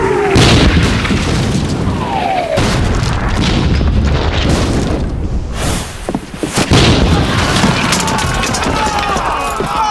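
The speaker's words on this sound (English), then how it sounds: "Swing the cannon round this way, loaded with grape shot and case." Period naval cannon loaded with grape shot and case fire in a battle, loud booming blasts with heavy rumbling tails, one after another amid chaotic noise, with a brief lull partway through.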